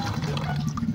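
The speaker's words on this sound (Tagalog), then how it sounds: "Nakasaksak at hindi hinuhulugan, umaagos yung tubig." Water gushes from an indoor water vending machine that keeps pouring while plugged in without a coin. The splashing flow is steady and close for about a second.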